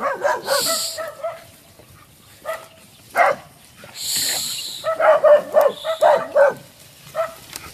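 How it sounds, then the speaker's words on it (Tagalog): A dog barks repeatedly on a farm in short, irregular bursts, fairly close, with yips mixed in and brief pauses between volleys. "ayan naman po ang maingay na aso"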